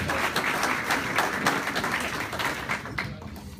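Applause from an audience at a 2016 South Central alumni meeting, welcoming prospective students; steady dense clapping fills the room at moderate loudness, tapering slightly toward the end.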